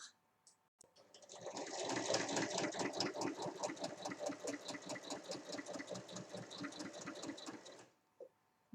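Sewing machine stitching a long seam in fabric at 1 cm from the edge: a steady, fast mechanical chatter of needle strokes running for several seconds, close and clear, starting and stopping abruptly.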